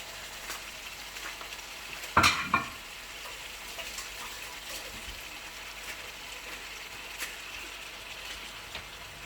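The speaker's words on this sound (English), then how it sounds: "Then we're just gonna cook this little bit, lightly fry it or saute with our onion and" Beef sautéing with onion and garlic in a pan for afritada, a low steady sizzle running throughout with a couple of sharper clatters near the start.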